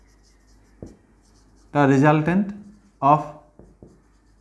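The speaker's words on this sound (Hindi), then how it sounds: "तो यहाँ पे हम लोग ऐसे लिख सकते हैं" Short scratchy writing strokes during a physics lesson on vectors and resultant equations, appearing as brief taps between stretches of a voice speaking nearby.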